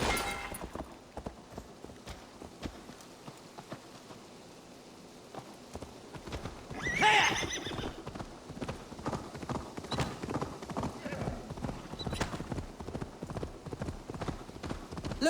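A horse gallops under its rider in Assassin's Creed Valhalla, hooves pounding in a rapid continuous rhythm over game ambience, with a brief swell of other noise midway.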